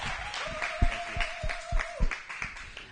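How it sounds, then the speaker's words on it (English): Applause at a livestreamed female founders pitch night, scattered rhythmic claps from an audience under a faint sustained tone, fairly soft and brief. "A round of applause for our sponsors, for our partners."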